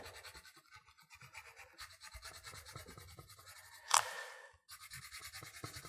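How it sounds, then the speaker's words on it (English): Fine sand is brushed and rubbed into gaps on a miniature stone wall, making soft close scratchy rustles in uneven strokes, with one brief louder scrape in the middle. "let's fill in these little spots here with sand"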